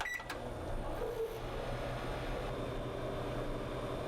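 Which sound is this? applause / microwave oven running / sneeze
microwave oven running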